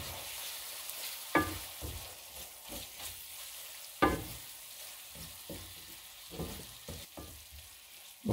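A bacon bourbon jam simmers and thickens in a pan, giving a low, quiet bubbling sizzle broken by occasional sharper pops and stirring scrapes.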